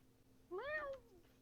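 A cat gives a single short, rising-then-falling meow, fairly faint and close, over a quiet room with a low steady hum.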